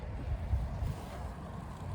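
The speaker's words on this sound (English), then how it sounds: "sitting by a river on a beautiful day" Steady outdoor water and wind noise by a river on a fine day, a continuous low broadband wash with gentle surges and buffeting, no voices.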